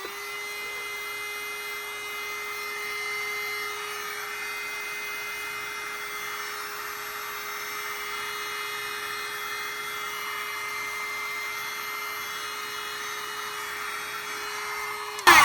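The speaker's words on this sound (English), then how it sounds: "Let's do the heat gun again." A heat gun blows steadily on resin molds, a constant close fan hiss with a thin electric hum throughout, ending with a short louder clatter.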